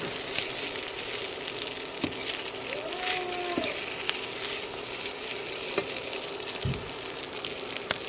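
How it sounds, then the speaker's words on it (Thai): Chinese kale and tomato stir-fry in a hot pan for Thai egg fried rice, giving a constant loud sizzle with occasional scrapes and clanks of the spatula. "แล้วก็ใส่ผักคะน้ากับมะเขือเทศนะคะ ลงไปผัด"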